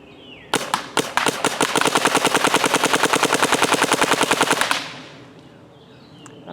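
Rapid bursts from a paintball marker firing DEFY paintballs at a concrete edge, a few single shots then a fast, loud, steady stream of pops for about four seconds before stopping.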